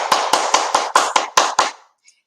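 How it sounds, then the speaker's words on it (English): A group claps hands together in unison about eight sharp, evenly spaced times, loud and close, then stops into near silence. "I'm going to ask everybody to clap 10 times."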